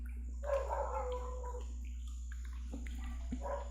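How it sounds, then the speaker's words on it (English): Dogs barking and howling at a distance indoors, several drawn-out cries and short yelps over a steady low electrical hum, no one talking. "I gotta go see what the hell they're barking at."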